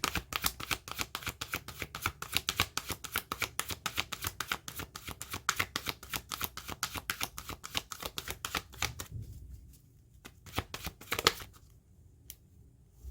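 Tarot cards are shuffled by hand in a rapid, regular flutter of crisp snaps, close and continuous, then thinning to a few separate riffles and taps before stopping.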